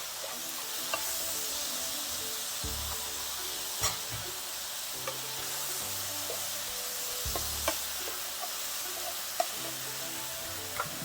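Sliced onions and a little sugar fry in a pan for vegan Korean bibimbap, a steady close sizzle and hiss with occasional stirring clicks and scrapes, no voices.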